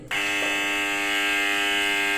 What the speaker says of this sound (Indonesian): buzzer genset akan bunyi untuk menandakan kalau genset itu belum dipadamkan